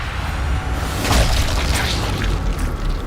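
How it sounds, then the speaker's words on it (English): A single-shot rifle in Sniper Elite Resistance fires one loud, sharp boom that rings out against steady game background noise. "oh, this is just a single shot rifle."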